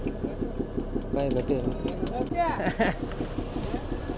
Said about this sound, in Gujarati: તો મિત્રો અમારી સંગાતીની બોટ આવી અમારી બાજુમાં